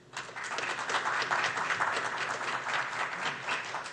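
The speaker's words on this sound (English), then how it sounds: "We'll allow applause in this section." Steady audience applause at a city candidate forum, a moderately loud wash of many hands clapping that swells in quickly and holds evenly without speech over it.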